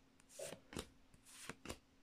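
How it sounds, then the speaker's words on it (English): Pokemon XY Evolutions trading cards are shuffled in several quick, crisp riffling bursts at a steady rhythm, close and fairly quiet, with no talking. "I'm going to do the four-card shuffle on this one."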